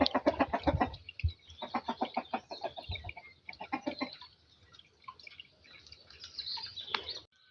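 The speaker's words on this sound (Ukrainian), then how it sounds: "От кури повипускала" Chickens clucking and calling close by in a series of short bursts, with some scuffling and dripping sounds between them.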